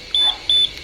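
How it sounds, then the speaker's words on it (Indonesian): A Yamaha motorcycle's keyless remote answer-back buzzer sounds two short, high electronic beeps a moment apart, bright and clear over a faint background hiss. "nanti si motor itu akan bunyi buzzernya titit gitu"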